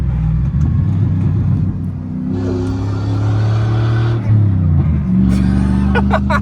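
Engine of a truck with an NV3500 manual transmission, roaring as it is driven through hard downshifts with rising and falling revs, loud and close, with some voices in the cab.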